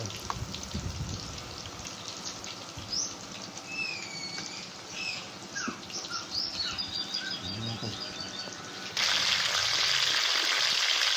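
Chicken frying and browning in a pan for buttered chicken, a steady sizzling crackle with scattered pops and bright squeaky spits, turning to a louder, denser hiss near the end.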